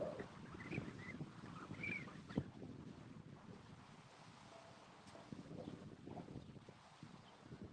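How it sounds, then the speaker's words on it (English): Outdoor wind buffets the microphone in a steady rumbling roar with gusty swells, loud and continuous for the whole stretch, and no talk. "Bear with me, the wind's blowing."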